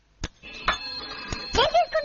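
A telephone rings in a short indoor scene, with brief repeated electronic ring tones mixed with nearby voices talking.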